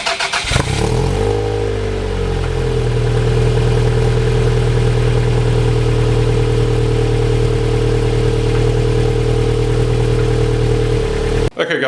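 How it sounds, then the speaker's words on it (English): A Toyota MR2 SW20 sports car engine cranks and fires, then settles into a steady, loud idle that runs on unchanged until an abrupt cutoff at the end. "I forgot to start the car up for you guys."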